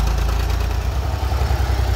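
A tractor engine running steadily at close range, a continuous low rumbling drone with a constant level and no pauses, heard alone with no talk.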